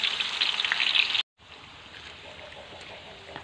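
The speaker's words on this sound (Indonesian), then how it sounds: "Kita goreng dengan api sedang sampai kering." Tempeh pieces fry in oil over medium heat with a loud, dense hiss that cuts off abruptly for a moment, then returns as a softer, steady sizzle.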